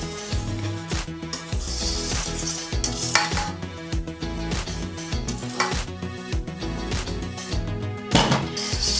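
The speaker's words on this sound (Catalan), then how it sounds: "Trenquem l'ou i ho anem remenant fins a que el sucre estigui tot ben integrat" Egg and sugar stirred into carob cookie batter at a food fair, with dense clattering of utensil against bowl, scraping and clinking in quick irregular strokes, close and fairly loud with no talk.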